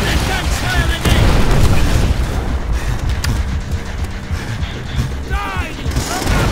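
Heavy cannon fire and booming explosions from tanks in the World War II shooter Call of Duty: World at War. The low rumbling blasts are loud and continuous, with battlefield noise and shouted voices mixed in.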